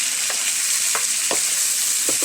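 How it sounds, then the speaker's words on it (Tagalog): Tomatoes and capsicum sauté in a hot pan, a steady loud sizzle broken by a few soft stirring scrapes, with no voices. "Yung kamatis, igisa-gisa natin hanggang sa medyo malambot at binot-binotin natin o durog-durogin."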